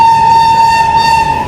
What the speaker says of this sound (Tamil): இந்த ஹை ஹார்ன் சூப்பராக இருக்குல்ல